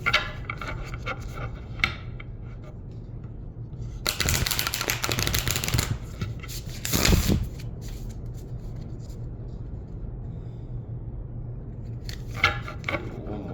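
Spirits of Nature oracle cards shuffled by hand in a pick-a-card reading, heard as two bursts of riffling shuffles, a longer one followed by a shorter one, with quiet handling and soft clicks in between.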